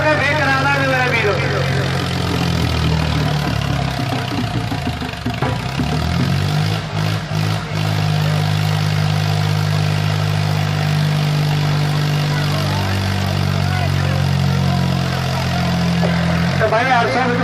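A loud tractor engine runs steadily during stunts, with a low, continuous drone that rises and falls a little in pitch throughout.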